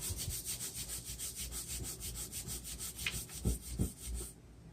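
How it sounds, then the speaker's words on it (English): Rust is scrubbed by hand off the metal of an H&R shotgun being sanded before reblueing, a quick, even back-and-forth rasping that repeats close up with no talk. "You just scrub a small spot."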